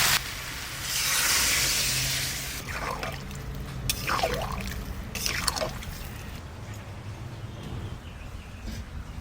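Water poured into a pan of green jackfruit cooking with a little spice and oil, a loud rushing pour at first, then bubbling, sloshing and squelchy drips as it settles, with no talk.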